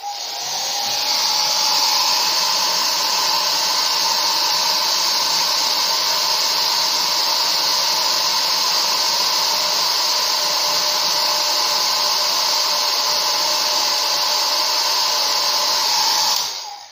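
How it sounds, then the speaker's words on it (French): A hair dryer blows steadily and loudly over white decals on a Mustang, a constant breathy roar with a high whine, running without a break from start to finish. "je vais passer un petit coup de sèche-cheveux sur le blanc"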